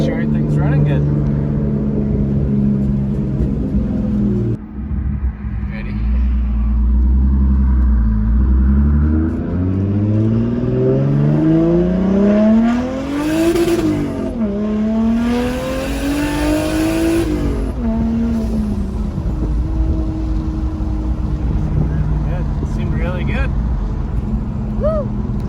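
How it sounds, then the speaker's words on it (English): A Lexus IS300 fitted with a new turbo drives off, its engine rumbling loud and close, revving through rising and falling gears with a steady drone of road noise under it. "we're taking the IS out for its first journey here, see how it does with a little bit of boost in it with the new turbo"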